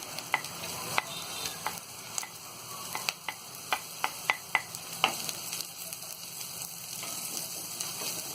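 Onions sautéing in a pan for veg momo filling: a steady close sizzle with repeated sharp clicks of a spatula against the pan, no voices.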